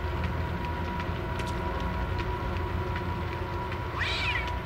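In the Forbidden Siren 2 video game, a cat lets out one rising meow near the end, over a steady dark ambient drone.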